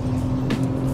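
A 2021 Acura TLX Type S accelerates hard in a drag race, its engine a steady, loud, close drone with a constant pitched tone for about a second.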